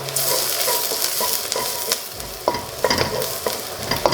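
Garlic sizzles in a pan along with onions and is stirred repeatedly, so a close, crackling fry runs under scraping spatula strokes and a few sharp taps, with no speech.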